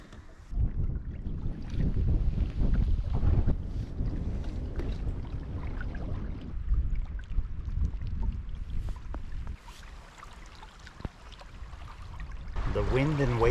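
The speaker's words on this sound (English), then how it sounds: "The wind and waves continue." Wind and waves buffet a canoe on a Temagami lake trip, a steady rushing roar of gusts against the microphone with lapping water underneath, swelling and easing throughout and louder near the end.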